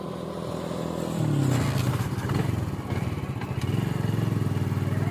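Motorcycle engine running as it rides along, the engine note climbing after about a second and then holding a steady buzzing drone.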